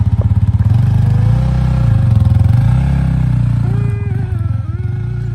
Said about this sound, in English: After breakfast, Jeremiah rode into Missoula for some more bike repairs.